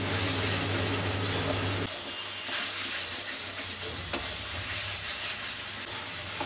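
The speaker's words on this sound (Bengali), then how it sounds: "এবার আমি দেবো এর মধ্যে আদা বাটা আর ভালো করে মশলাটাকে কষিয়ে নিতে হবে" Spice masala with ginger paste is stir-fried for shahi paneer, giving a continuous sizzle and hiss with scattered scraping stirs, louder at first and then settling, no voices.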